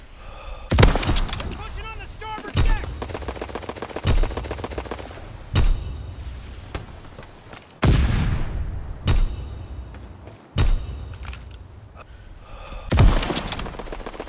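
Repeated strafing bursts of gunfire from fighter planes in the Call of Duty WWII game, loud heavy volleys recurring every second or two with booming impacts and shorter crackles between them.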